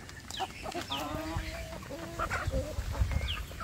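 Village chickens cluck and chatter nearby in a busy farmyard, short repeated calls overlapping over a low rumble of background noise.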